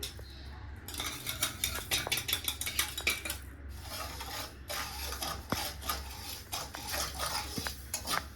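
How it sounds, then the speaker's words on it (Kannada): A spoon stirs sugar in a pan to make syrup, with close, busy metallic scrapes and clinks repeating irregularly over a low hum. "ಇವಾಗ ನಾನು ಈ ಪ್ಯಾನ್ಗೆ ಶುಗರ್ ಹಾಕ್ಕೊಂಡು ಸಿರಪ್ ಮಾಡ್ಕೊತೀನಿ."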